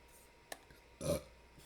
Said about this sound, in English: Sorry for the burp.